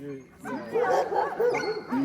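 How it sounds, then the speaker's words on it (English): Several Arctic sled dogs yip, whine and bark excitedly up close while being lined up before a snowless sled dog race in Willow, Alaska, with a person talking over them. "The dogs are getting lined up and prepared for their run."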